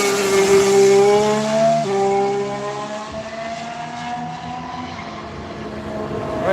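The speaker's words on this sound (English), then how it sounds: "We've got a Kia hybrid by the sound of it." A Kia hybrid car lapping a track, its engine note rising loud and close then easing and fading as it passes, with a clear gear change midway.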